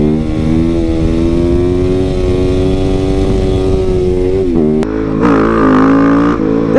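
A modded 2024 KTM 690 SMC R supermoto engine pulls loudly and steadily under acceleration, its pitch climbing, then briefly dropping at a gear change and rising again, close and alone with no talk.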